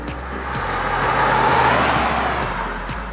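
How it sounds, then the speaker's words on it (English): Mahindra XUV300 diesel engine held under hard throttle, a loud, steady, droning roar that swells through the middle and eases slightly at the end, with no voices. "as you get hard onto the throttle, it makes a lot of noise, especially near its"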